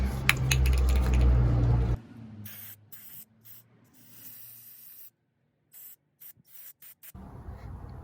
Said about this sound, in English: I'm just gonna use a throttle body cleaner to clean that.